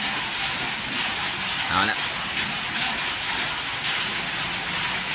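Steady rain falls through the night on an elephant village, a continuous hiss of drops close around, with someone talking briefly over it.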